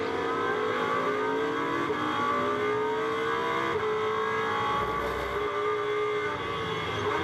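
Fanatec GT2 Series race cars at the Algarve circuit, their engines holding a loud, continuous roar that swells and eases slightly as the cars race past.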